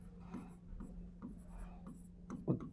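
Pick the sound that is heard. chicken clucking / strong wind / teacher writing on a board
teacher writing on a board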